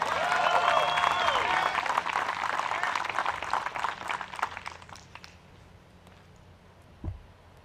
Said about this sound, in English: Plenty of home state cheering and applause there for Kat Mertsch